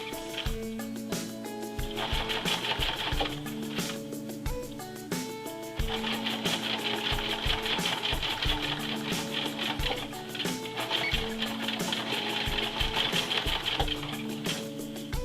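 A sewing machine stitches a short seam along a winter coat's hem lining, a close, rhythmic mechanical chatter that runs in bursts with brief pauses between them.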